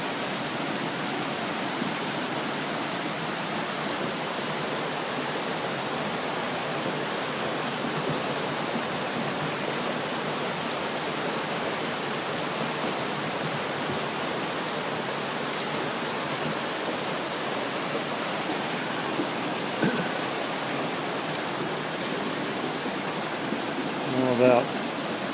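Broadband rushing water from a waterfall area of a wash running after rain, a steady continuous roar at moderate level throughout, with a brief louder splash or bump near the end.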